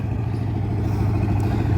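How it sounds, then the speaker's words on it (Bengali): A boat passes on the Padma river near the Gorai confluence, with a loud, steady, low engine drone that holds without a break. "নৌকা যাচ্ছে, ওই সামনে"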